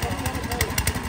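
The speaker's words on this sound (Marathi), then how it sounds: "आता ट्रॅक्टर चालू केला आहे" A New Holland tractor engine runs right after starting, a close, steady throbbing rumble with quick regular pulses and some background hiss.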